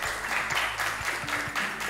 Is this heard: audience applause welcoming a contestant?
yes